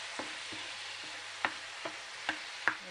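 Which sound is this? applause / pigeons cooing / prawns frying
prawns frying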